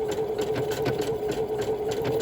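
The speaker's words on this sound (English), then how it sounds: "I'm looking to make sure that the needle is passing through each piece of fabric" A sewing machine stitches through layered fabric for an openwork seam, a close, rapid, even rhythm of needle strokes over a steady motor hum, with no talking.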